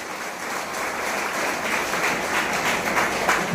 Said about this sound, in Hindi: गुरुओं के लिए जोरदार ताली बजा दे सारे गुरुओं के लिए